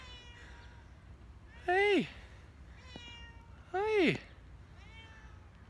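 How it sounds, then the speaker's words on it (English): A cat stuck up in a tree gives two loud, drawn-out meows about two seconds apart, with a voice briefly calling out in between. "There's a kitty cat in the tree."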